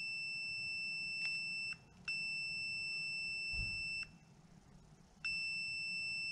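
A continuity tester on a car's brake light switch gives a high electronic beep in long steady tones, cutting off briefly and resuming three times, against faint low background noise.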